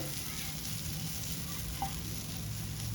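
Cabbage and gram flour stirred in a non-stick pan over high flame, a constant close sizzle with a soft scrape of the spatula near the middle.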